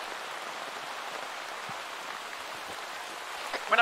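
Rain falls steadily in the military shooter Arma 3, a soft, even hiss of drops with a few brief knocks near the end.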